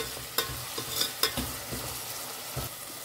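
Tomatoes frying in a pan for a crab sukka, with a steady soft sizzle under several clear scrapes and knocks of a spoon stirring them, spaced irregularly over a few seconds; no talking.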